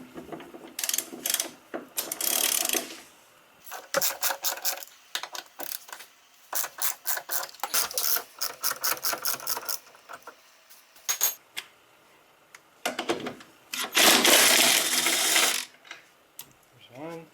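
A ratchet loosens 5/8 bolts on the front strut of a 2006 Audi A4, with repeated bursts of rapid clicking separated by pauses, close and fairly loud, plus some rubbing and handling noise.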